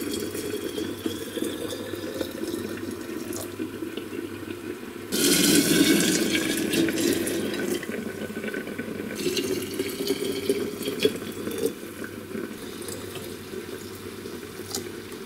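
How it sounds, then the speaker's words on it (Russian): Boiling water poured from a kettle into four glass jars of mulberry and mixed berry compote, a steady close gurgling pour that starts abruptly midway and runs on with splashing until the end. "У меня вода закипела, и я сейчас точно так же залью эти 4 баночки."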